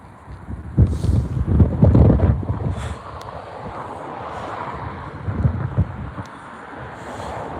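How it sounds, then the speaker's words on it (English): Strong wind blowing at Newcastle airport, buffeting the microphone in heavy low rumbling gusts that swell and ease across the clip. "Definitely windy, and I think some rain's coming over in a minute."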